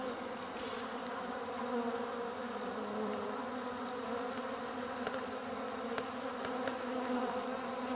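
Bees buzzing steadily around wheel bug and mantis predators outdoors, a continuous faint drone with a few brief closer passes, no voices.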